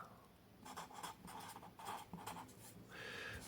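Pen writing on a paper diagram for a guitar strobe tuner build, a close scratchy scribble in short strokes over a few seconds, with no voice.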